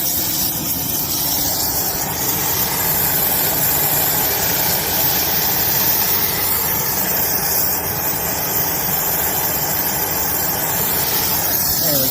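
Nitrogen gas forces through a small leak in an HVAC pipe, a loud, continuous rushing hiss with a steady roar underneath that holds without a break throughout.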